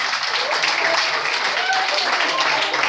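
Audience applause at a comedy sketch show, a steady wash of clapping from a crowd with some voices mixed in.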